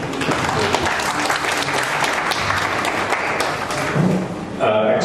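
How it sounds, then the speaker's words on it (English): A Lions Club meeting audience gives a steady round of applause for the district governor and vice district governor, dense clapping held for about five seconds before a voice begins at the end. "we can give a big round of applause for our district governor and for our vice district governor"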